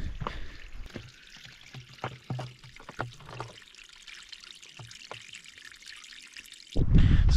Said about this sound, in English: It seems there is a spring, a water spring, not too far from here.